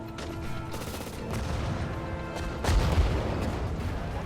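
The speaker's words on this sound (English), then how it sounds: "You can see they've been shooting at this Cromwell." Dense battlefield gunfire and tank cannon shots from the Sudden Strike 4 video game, German tanks firing on a Cromwell, with overlapping bursts and a heavier boom near the end over continuous game music.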